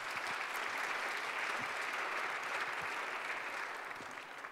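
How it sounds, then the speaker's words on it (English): Applause from a seated audience at a panel discussion, a steady, even patter of many hands at moderate distance, quiet overall and tapering slightly at the end. "A round of applause,"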